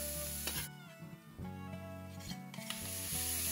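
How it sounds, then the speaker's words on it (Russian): Oil sizzles steadily as chopped vegetables fry briefly in vegetable oil in a hot pan, with tonal background music running throughout. "добавляю в нее пару столовых ложек растительного масла, отправляю на сковородку измельченные овощи."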